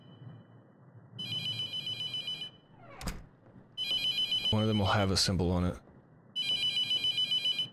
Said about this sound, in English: should I answer the phone?